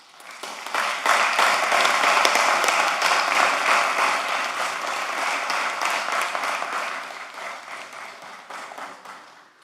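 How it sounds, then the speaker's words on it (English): A room of people applauds during a city commission meeting, a dense, steady round of clapping that rises quickly and holds for about nine seconds before slowly fading. "If we can get a round of applause."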